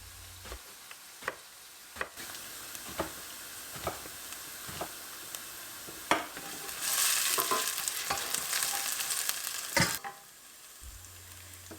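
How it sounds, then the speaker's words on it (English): Diced carrots and other vegetables sauté in a pan, with a soft steady sizzle punctuated by a spatula's scraping and tapping strokes, the frying swelling louder midway before settling back. "I continue to saute the veggies."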